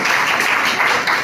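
Audience applause for a first-prize winner at an essay-writing competition prize distribution in Malegaon, a steady dense clapping texture throughout with no pauses.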